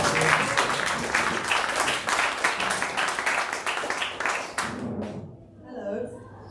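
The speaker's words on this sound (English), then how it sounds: "Round of applause for Erica." An audience at a book launch claps in a loud, dense burst of applause that carries for several seconds, then cuts off sharply, leaving a short stretch of quiet room sound.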